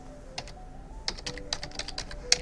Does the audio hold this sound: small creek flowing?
no